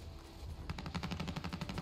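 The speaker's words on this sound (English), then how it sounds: "I hear some gunshots." Rapid bursts of automatic gunfire from a shooting video game, heard through a JBL Quantum ONE gaming headset, starting abruptly after a quiet moment and continuing as a dense rattling string of shots.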